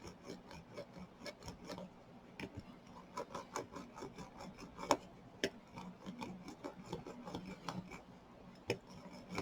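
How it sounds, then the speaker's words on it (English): Hard rubbing over a double-sided diamond painting to press and seal the drills, a faint steady scraping rasp broken by frequent sharp gritty strokes and occasional louder scuffs, with no talk. "Rub it all over, pushing down hard. You want to seal in those drills."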